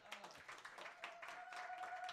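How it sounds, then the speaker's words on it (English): Applause from an open mic night audience as winners are announced, a soft, fairly distant patter of clapping that carries on steadily throughout. "A round of applause."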